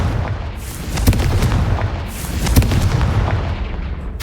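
A Confringo fire spell sets off a run of explosions in the Hogwarts Legacy video game: repeated loud, heavy booms and bursts come in quick succession over a dense, rumbling low-frequency bed.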